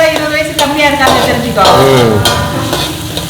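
Vadagam sautéing in a pan sizzles loudly and steadily while a spoon stirs and scrapes against the metal in quick, repeated strokes, close up and continuous.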